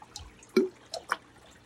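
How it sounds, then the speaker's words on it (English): Aquarium canister filter hose siphoning tank water, heard as a few sparse, close drips and gurgling splashes in near silence, roughly four distinct bursts. "Let's get the siphon started."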